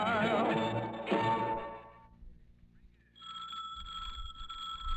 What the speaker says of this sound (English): Gene Rayburn, the phone call is now ready.